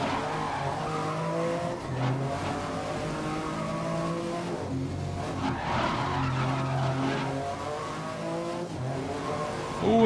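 A race car in the GRID 2019 racing game roars along with engine revving and repeated tire squeals and skids, loud and continuous, no talk.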